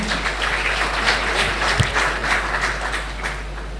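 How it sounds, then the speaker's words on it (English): Audience applause for a panel speaker at a policy discussion on Nigeria's post-oil economy, a moderate, steady patter of clapping from a modest crowd with a low hum beneath. "Please, a round of applause for him"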